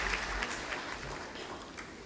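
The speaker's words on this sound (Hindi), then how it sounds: "कृपया जोरदार तालियों से डिग्निटरीज का स्वागत भी करें" An audience claps to welcome dignitaries at a Women's Day event, a dense steady wash of applause from a crowd that holds at an even level throughout.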